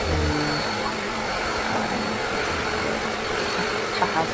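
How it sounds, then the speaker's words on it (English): A big vacuum cleaner running over carpet gives a steady, unbroken whooshing drone at moderate loudness, with a low hum underneath and only slight changes as it moves. "so I whipped out my big vacuum."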